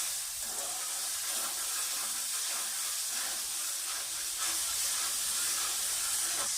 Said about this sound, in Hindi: दो से 3 मिनट तक हम टमाटर को अच्छी तरह से भूनेंगे और इसका मिसाला सा बना लेंगे।